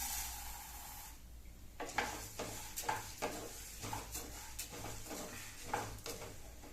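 Urad dal and chana dal roast together in a pan, quiet dry rustling and scraping as a spatula stirs the lentils in repeated strokes, faint and close with no talking.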